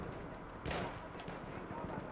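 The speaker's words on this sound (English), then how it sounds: "I hear bullets" Gunfire in a Battlefield 1 match: one brief loud burst of distant shots rises out of a dense battlefield din, with a voice talking over it.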